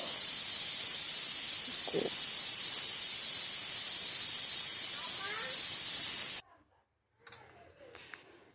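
A pressure cooker whistle releases steam in a loud, continuous hiss for several seconds, then cuts off abruptly, leaving faint clatter.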